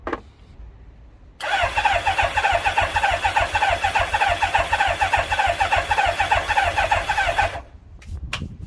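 A Kawasaki GPZ900R motorcycle on choke cranks and catches, then runs loud and steady in a continuous buzzing roar for about six seconds before cutting back to quieter rumble and knocks.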